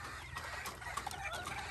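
Chickens on a chicken farm clucking in a busy overlapping chorus, several birds sounding at once in short irregular bursts, moderately loud with no clear talking.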